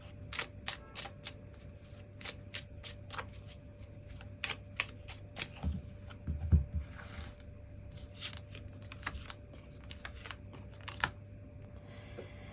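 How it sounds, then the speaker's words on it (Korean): Tarot cards are shuffled and drawn up close: a quiet run of crisp, rapid card snaps and riffles, a soft thump partway through, then more scattered flicks of cards. "그 부분 추가 카드 뽑아보도록 하겠습니다."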